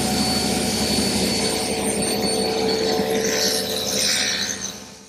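Table saw cutting a rabbet in wood stock, a steady loud whirring roar that holds without a break and then fades away near the end.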